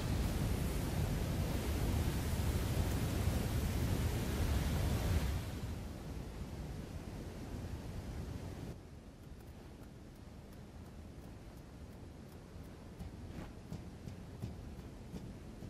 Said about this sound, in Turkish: Aa kum şelalesine geldi.